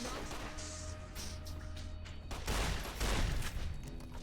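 Rapid gunfire from the video game Fallout: New Vegas crackles in a dense volley, with heavier bursts of shots near the end over a steady game backdrop.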